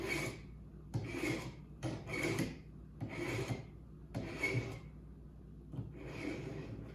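Knife blade drawn across a coarse sharpening stone in about seven rasping strokes, each a close gritty scrape separated by short gaps, with no talking.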